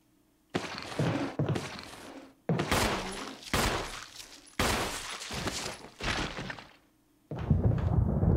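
Gunfire in the Resident Evil Remake horror game: a series of loud, close shots spread over several seconds, each followed by a ringing tail, with a heavy final blast at the end.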